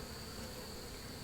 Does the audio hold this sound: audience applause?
no